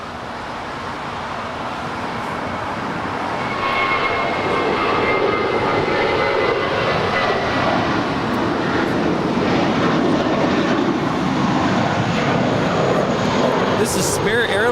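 A United airliner taking off from runway 25 right at Los Angeles International Airport, its engine roar building to a loud, steady, broadband rush that holds for several seconds.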